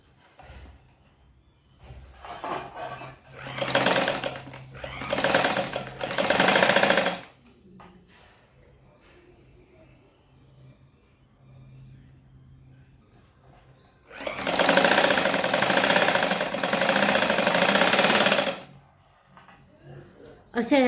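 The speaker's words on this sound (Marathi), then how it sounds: "अशा या प्लेटी शिवून घ्यायच्या" A sewing machine stitching pleats on a blouse sleeve runs in two bursts of rapid whirring, separated by quieter handling, with occasional speech.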